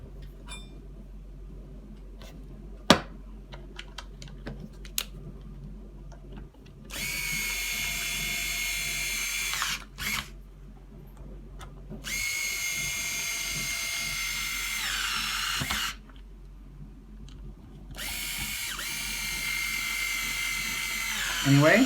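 A power drill drives screws to fix hubcaps back onto a Bugaboo Buffalo stroller wheel, whirring in several sustained bursts of a few seconds each, separated by quiet pauses and small handling clicks.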